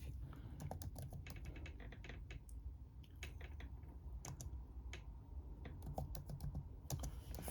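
Steady quick clicking of keys on a computer keyboard, close and fairly quiet, continuous with brief irregular pauses.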